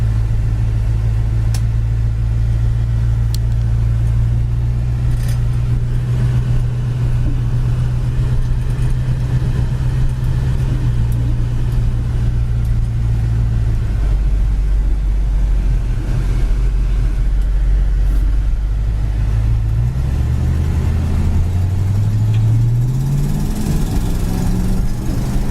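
A white 1967 Ford Mustang on the move, its engine holding a steady low drone that swells and climbs in pitch toward the end as the transmission shifts, with no talking.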